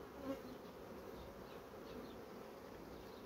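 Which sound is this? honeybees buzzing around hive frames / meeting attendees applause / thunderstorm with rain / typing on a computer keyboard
honeybees buzzing around hive frames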